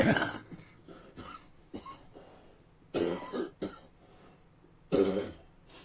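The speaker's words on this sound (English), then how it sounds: "excuse my coughing, but just getting over a chest infection" Several separate coughs in short bursts from someone recovering from a chest infection, close by, with quieter breathing and brief throat sounds between them.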